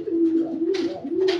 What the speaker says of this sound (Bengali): খাঁচার ভিতরে কতগুলো কবুতর আছে